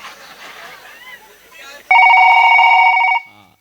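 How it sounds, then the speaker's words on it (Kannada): A telephone rings with a loud, steady electronic trill lasting about a second, heard close after a stretch of muffled talk and fading out at the end. "ನಂಬರ್ ಬಡಕಿಂದ ಮುಂಚೆ ಫೋನ್ ಹೋಗ್ತಾ ಇದು"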